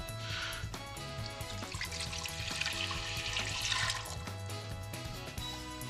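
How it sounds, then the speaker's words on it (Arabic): A litre of water is poured into a cooking pot while making lentils with chard. Steady, continuous splashing and gurgling lasts several seconds, fairly close, with no voice over it. "اول شيء طبعا بدي احط مي، لتر من المي"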